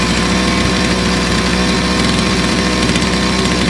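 A gasoline grass trimmer's small two-stroke engine idles close by, a loud, steady, rapid buzzing putter that runs without a break, with no talking.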